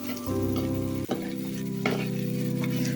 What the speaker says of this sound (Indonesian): Kemudian kita masukkan sayuran buncisnya ke dalam wajan ini. Kita tumis ya bareng dengan rempelo atinya.